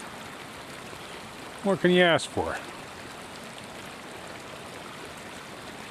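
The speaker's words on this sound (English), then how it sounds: "you got running water" Stream water running steadily and quietly at a campsite by East Boulder Lake, a soft continuous wash with someone speaking briefly over it.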